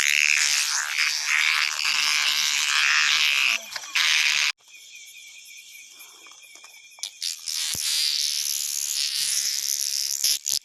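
Giant cicadas calling outdoors at night, a loud, dense, shrill buzz that breaks off briefly midway and then returns, with faint sounds of people nearby.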